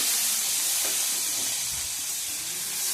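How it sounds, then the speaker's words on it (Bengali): Paneer cubes fry lightly in hot oil, a steady, close hiss of sizzling that holds at an even level throughout without interruption. "হালকা করে ভেজে তুলে নিতে হবে নাহলে পনিরগুলো ভেঙে যাবে"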